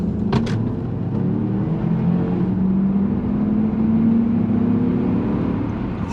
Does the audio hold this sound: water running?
no